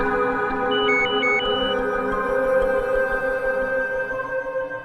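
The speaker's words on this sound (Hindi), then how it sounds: "जरा देखो तो किसका फोन है।" A phone rings indoors in a Hindi crime drama household scene, a sustained electronic ringtone with layered tones and a short melodic figure, steady and fairly loud with no talk over it.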